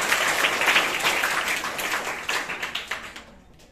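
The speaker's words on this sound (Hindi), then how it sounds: "इनके लिए जोरदार तालियां बजाइए।" Applause rings out for a correct answer at a school quiz, as a roomful of students claps briskly, close and steady, before it thins into scattered claps and dies away.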